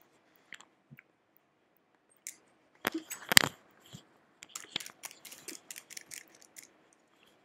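Gum being chewed close up during a quiet stretch of Minecraft play, heard as scattered soft wet clicks and smacks that come in short irregular bursts, with one sharper cluster near the middle.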